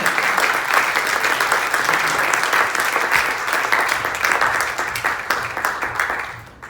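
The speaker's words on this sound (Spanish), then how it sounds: "Denle una ofrenda de palmas al Señor" Church congregation clapping as an offering of praise to the Lord, a dense, loud, sustained wash of applause from many hands that carries steadily before tapering off at the end.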